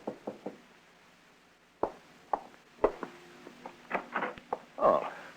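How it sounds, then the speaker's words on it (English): Knocks on a door in an old radio drama, a few sharp raps, a pause, then more uneven knocks and thumps, close and clear against a quiet room. "there's a knock on the door"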